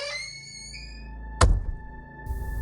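A single heavy door slams shut with a sharp thud in a tense horror setting, ringing over low ambient tones and faint high tones before a rumble follows.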